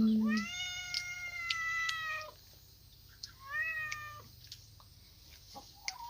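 Cat giving a long, drawn-out meow followed by a shorter second meow, close by, with faint background noise and a few small knocks.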